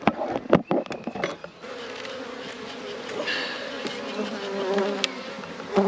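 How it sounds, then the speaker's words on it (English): Honey bees in a nuc hive, likely queenless, hum in a steady, fairly loud drone close by, with a few sharp handling clicks and knocks at the start. "Bees are a bit more vocal, which tells me there's a problem."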